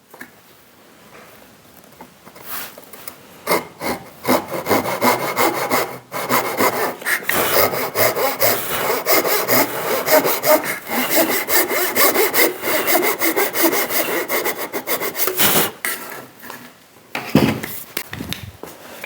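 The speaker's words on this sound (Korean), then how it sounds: "어차피 이 연기를 자르면서 갈 수는 없기 때문에 사선으로 톱질을 해야 합니다" Hand saw cuts diagonally through wood in traditional Korean joinery, steady rhythmic rasping strokes close up, continuing for long stretches with brief pauses between, loud and alone without talk.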